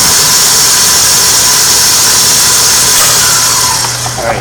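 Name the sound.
large commercial mixer mashing potatoes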